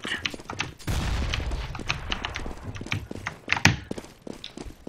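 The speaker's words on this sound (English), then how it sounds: "Grenade out!" A grenade detonates in a tactical shooter video game, a deep booming blast that rumbles on for a couple of seconds, framed by scattered gunfire, clicks and footsteps.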